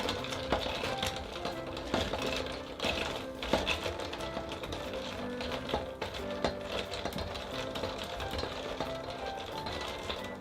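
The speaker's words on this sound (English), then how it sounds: "get your bar spoon and now give it a light stir so it mixes." A metal bar spoon stirs a Snowball cocktail in a glass, giving a continuous run of light clinks and scrapes at an even, busy rhythm, close and fairly soft with no talk.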